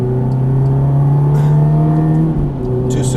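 A Ferrari F430 at full throttle on a racing track in Las Vegas: a loud, sustained engine drone close by, steady and strong throughout with a brief dip near the end.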